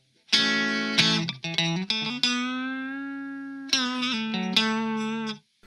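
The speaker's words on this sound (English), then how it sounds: "out of phase gives you a much thinner, lower volume sound" Clean electric guitar with out-of-phase pickups playing a few chords and notes, thin and somewhat nasal in tone, with one long sustained chord in the middle, close and moderately loud.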